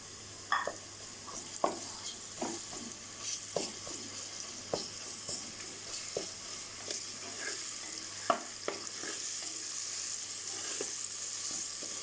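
A steady sizzle of ginger-garlic paste frying in a pan, with repeated scraping clicks of a spoon stirring at irregular intervals throughout.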